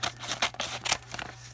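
Scissors snipping open a paper auction envelope, a quick series of close crisp cuts and rustles over a low steady hum.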